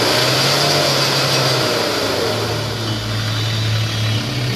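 Kia Sportage engine fitted with an I-Tube Harmonics power tube, running loud and close with a steady drone and a slight dip then rise in revs, no talking over it.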